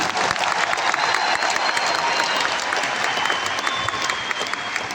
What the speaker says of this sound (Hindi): इस बात के लिए इतनी सी तालियां बहुत कम मानी जाएगी